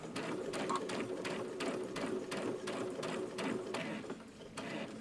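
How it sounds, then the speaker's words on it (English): A Babylock Solaris 2 sewing machine stitches at a quick, even pace, its needle making a run of regular sharp clicks over a mechanical whir, close and fairly quiet. "Okay, I'm going to keep stitching."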